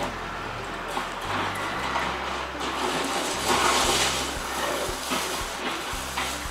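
Rushing, hissing water in Forza Horizon, played over an SVS Prime Satellite surround speaker system. A continuous splashing wash sits over a low rumbling drone, with a few soft thuds scattered through it.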